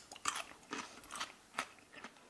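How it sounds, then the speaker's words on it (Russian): Crunchy barrel-salted pickled cucumber, cold-brined without vinegar, bitten and chewed close up: several crisp crunching bites in an uneven rhythm, fairly quiet, with no talking. "вытащил первый попавшийся огурчик. Он плотный, хороший и хрустит"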